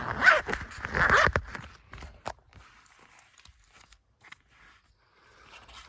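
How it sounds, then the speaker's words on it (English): Zipper on the case holding the original owner's manual for a 1992 Ford Ranger XLT, pulled open in a quick rasping burst near the start, followed by soft handling and rustling sounds. "Just unzip it real quick."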